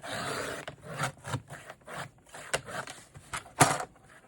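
Paper being trimmed for a handmade notebook, giving a series of close, dry cutting and rubbing scrapes in uneven bursts with a sharper snip near the end, no talk.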